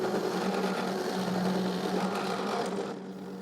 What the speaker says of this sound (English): I will drill at 2 cm from the end of the rod